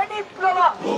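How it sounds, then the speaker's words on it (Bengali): A crowd of protesting BUET students chanting slogans against police during a march toward the DMP office in Dhaka, a brief burst of massed shouting voices. "তারা পুলিশের বিরুদ্ধে বিভিন্ন ধরনের স্লোগান দিচ্ছে"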